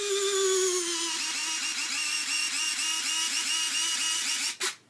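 Retract mechanism of a FlightlineRC 1600mm F7F-3 radio-control model plane's folding wing, modified and moving with the spar in place: a steady whirring servo hum that drops in pitch and settles into a rhythmic pulsing grind, ending in a short click, close and alone.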